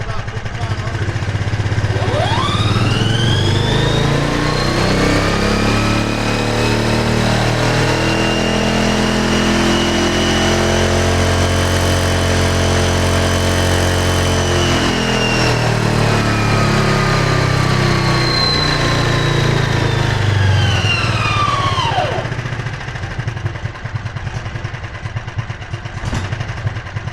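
A Predator 459cc engine on a mud skipper, its governor bypassed, revs up from idle to a loud, sustained high-RPM roar that holds for about twenty seconds before dropping back down to a rough idle, heard close up.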